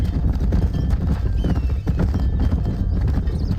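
Horse hooves clop at a running pace while herding cows in Red Dead Redemption, a steady rapid drumming close up with low rumbling underneath.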